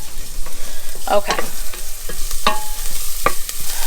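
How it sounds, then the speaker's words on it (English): Garlic sizzles softly in a hot pan while a utensil stirs and scrapes a few times; someone says a single word. "Our garlic has begun to sizzle"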